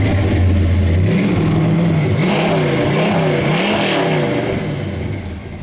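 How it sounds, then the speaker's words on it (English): A 1967 Hemi-powered car engine revs loudly up close, rising and falling in several throttle blips over a deep rumbling idle before settling back down. "I'll rev it up a little bit."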